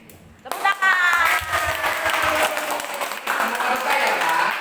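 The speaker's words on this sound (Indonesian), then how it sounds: "Tepuk tangan." An audience at a Sunday gathering breaks into applause, a dense, sustained clatter of clapping that starts suddenly and carries on for several seconds.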